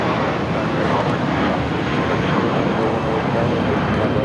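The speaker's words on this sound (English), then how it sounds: "This is Spirit Airlines 520 taking off to Detroit on the A320" Airliner engines roar steadily close by as an Airbus A320 takes off at LAX, a broad loud rumble filling the whole stretch with wind buffeting the microphone.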